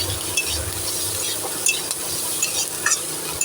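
Chicken, with a little sugar just added, fries in a pan, giving a continuous close sizzle broken by a few sharp utensil scrapes and clinks as it is stirred; no talking.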